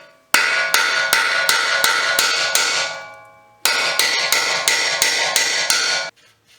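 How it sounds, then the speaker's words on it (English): Loud, close hammer whacks on the strut bolts of a Chevy Traverse front strut, two runs of about seven or eight ringing metallic strikes in quick rhythm, separated by a short pause as the ringing fades, no talking. "you need to give it a few good whacks with a hammer"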